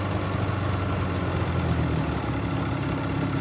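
A motorcycle engine idles steadily in a shed after sitting unused for a while, one of an RGV250, RS125 or TL1000R, a close, constant low drone with no voices.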